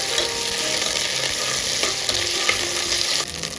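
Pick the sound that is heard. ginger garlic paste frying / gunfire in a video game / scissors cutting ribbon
ginger garlic paste frying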